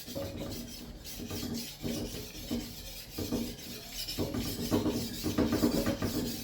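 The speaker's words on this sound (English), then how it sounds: "all I'm doing is removing most of the rougher machine marks from the other side of the diamond plate" A paper machine knife is stroked against a diamond plate to grind off rough machining marks, making repeated close, gritty rasping scrapes in a steady back-and-forth rhythm.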